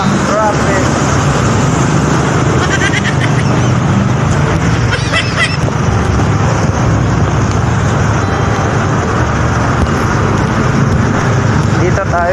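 Steady road traffic on a busy street, a continuous dense rumble of passing cars and vehicles at close range with no gaps.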